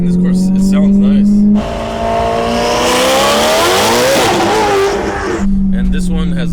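A tuned Ferrari F8 accelerates hard in third gear, its engine note climbing in a loud, rising sweep that fills the middle of the clip before easing back, with a steady idle-like hum and voices before and after.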